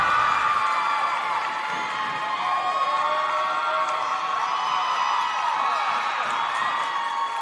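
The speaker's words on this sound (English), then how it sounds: "So the rest of the team that's not in any of these events are behind us, cheering for their team." Cheerleading team members shouting and whooping from the sidelines at a conference event finals, a steady, loud wash of crowd cheering and high-pitched yells that keeps going without a break.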